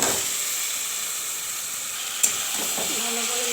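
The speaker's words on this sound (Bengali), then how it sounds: "মশলা কষানো হয়ে গেছে, এখন দিয়ে দিব চিকেন।" Marinated chicken hits a pan of fried spice paste with a steady, close sizzling hiss, a brief clank partway through, and no talk.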